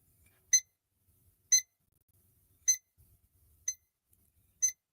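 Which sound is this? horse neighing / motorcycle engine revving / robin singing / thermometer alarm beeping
thermometer alarm beeping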